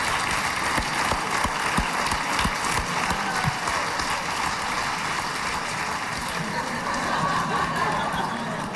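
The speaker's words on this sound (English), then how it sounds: "give God a hand clap of praise" A church congregation gives a sustained round of clapping as praise, dense and steady throughout, with some murmuring and light laughter mixed in.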